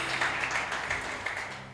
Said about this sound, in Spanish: un aplauso para el muchacho, muy bienvenido